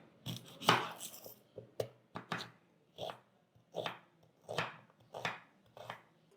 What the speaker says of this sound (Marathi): आता आपल्याला एक कांदा चिरून घ्यायचा आहे मध्यम आकाराचा कांदा घेतला आहे